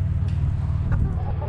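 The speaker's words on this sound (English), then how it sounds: "You're one of the top hens." Hen clucking in a backyard flock near a fence at feeding time, a few short close clucks over a low, steady background rumble.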